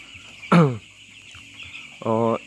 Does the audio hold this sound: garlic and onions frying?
no